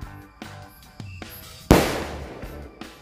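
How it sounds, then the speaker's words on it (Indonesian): A single sharp firecracker ball bang bursts out with a lingering crackly tail, amid a few quieter background pops and clicks, during Eid al-Adha celebrations. "Mercon bola assorted."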